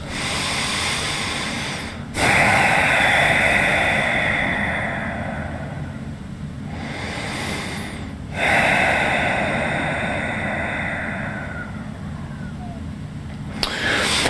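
Slow, deep breaths during a yoga pose, each long hissing inhale and exhale close to the microphone, with a few sharp snort-like intakes marking the start of new breaths.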